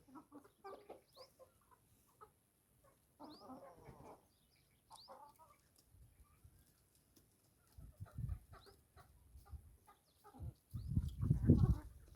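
Rooster and hens on a farm clucking in scattered bursts, fairly close, with quieter gaps between calls and some louder handling noise near the end.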